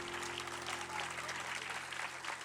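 A graduating class is applauded at a graduation ceremony in Mumbai with steady, dense clapping from a seated audience, fairly faint and distant throughout.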